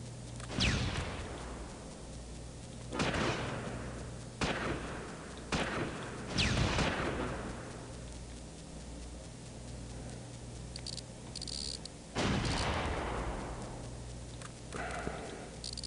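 Gunfire in the Close Combat Invasion Normandy war game, several sharp separate shots and blasts spaced a few seconds apart over low steady background noise.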